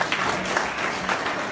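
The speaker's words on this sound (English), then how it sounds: "One more time, can we clap again for the officers of DECA," High school audience clapping for DECA student officers at an event, a brief steady burst of crowd applause heard alone at fairly close range.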